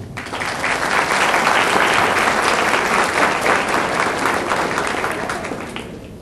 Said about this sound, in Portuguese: o Dr. Wilson José Lourenço Júnior, a quem peço uma salva de palmas